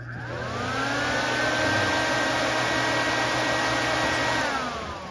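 A car's add-on auxiliary aircon condenser fan spins up and runs steadily alongside the AC compressor, a loud, close, continuous whirring drone with a low hum underneath that winds down near the end; no talking.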